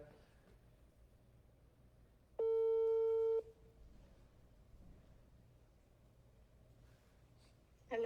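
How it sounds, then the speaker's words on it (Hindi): A telephone call tone sounds as a single steady electronic beep of about a second, then returns briefly at the end, over a quiet line with faint background noise. "मेरी बहन शाइस्ता नकवी, मेरी बहन, मैं आपको फ़ोन लगाने लगा हूँ, खुदारा उठा लेना"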